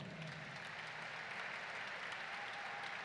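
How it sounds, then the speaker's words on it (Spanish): A seated audience at Mexico's national science and arts award ceremony claps steadily and evenly for a few seconds, a dense wash of hands with no voices on top. "con un fuerte aplauso"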